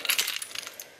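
A ring of house keys crowded with about ten keychains jingles and clinks in quick metallic bursts as it is handled, close and bright, with no talk over it.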